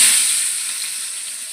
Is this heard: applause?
no